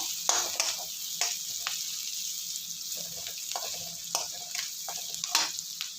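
Ground pepper sizzling and frying in a pan as a Margazhi month prasadam is cooked, with steady crackle and occasional stirring scrapes close by, no talking.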